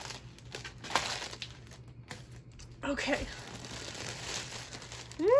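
Crinkling of a plastic Disney Parks shopping bag being handled, with irregular rustles and a louder burst of crackling partway through, close by; a person speaks briefly.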